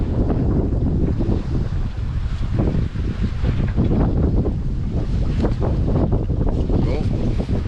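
Wind gusts over a sailboat under genoa alone, making about 4 to 5 knots off Spain, produce a loud, constant roaring rush of wind buffeting the microphone, mixed with water and hull noise, with no clear break.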